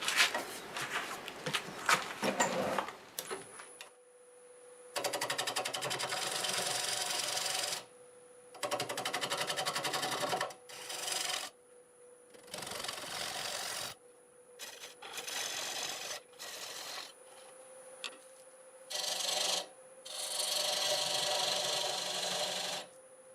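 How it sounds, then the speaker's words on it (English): Half-inch gouge cutting black walnut on a wood lathe, a raspy scraping rasp in repeated bursts of a few seconds with short pauses between, a steady whine of the spinning lathe running underneath, no talking. "I'll switch to a 1/2 inch hole gouge for this."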